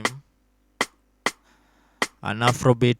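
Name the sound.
afrobeat rim shot percussion in FL Studio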